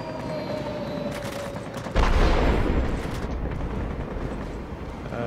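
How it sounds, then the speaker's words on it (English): Bombs dropped from a jet warplane in the World of Warplanes game burst in a loud, rumbling blast about two seconds in, trailing off over steady engine roar. "I'll just drop these bombs."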